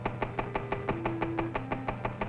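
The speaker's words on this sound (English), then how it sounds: "This test engine is equipped with a dial indicator that shows just how badly the engine is knocking" A 1948 test engine knocking on low-octane fuel gives a steady, fast run of sharp metallic knocks, about five per second, over a continuous low engine drone, close and fairly loud with no talk.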